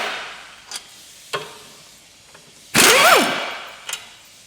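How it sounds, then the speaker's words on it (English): A pneumatic air gun removing two 15mm brake caliper carrier bolts on a Ford Mondeo Mk5 rear wheel, a few short ratchety clicks and then one brief loud whirring burst, nearby with no talk. "I'm going to whack these out of an air gun just to get it done quicker"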